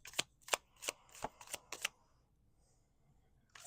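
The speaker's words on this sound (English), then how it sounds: "I'm going to keep shuffling." Tarot cards shuffled at close range, about six sharp, evenly spaced card snaps in quick succession, then near silence with one more faint snap at the end.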